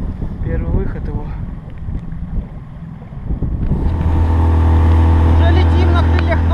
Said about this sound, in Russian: Дадим моторчику чуть поработать.